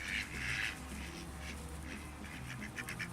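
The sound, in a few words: baby ducklings making duck noises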